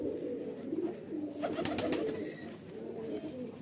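Highflyer pigeons held in the hand coo softly and steadily close by, with a brief rustle of fluttering wings partway through.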